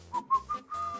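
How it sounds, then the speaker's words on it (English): A person whistles a short wavering tune in four uneven notes, close and fairly quiet, with no talking over it. "I can't whistle when I'm smiling"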